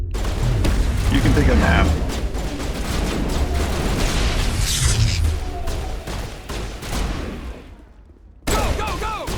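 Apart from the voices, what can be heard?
gunfire in Mass Effect video game fight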